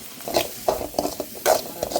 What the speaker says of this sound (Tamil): நல்லா வதக்கி விட்டுப்போம்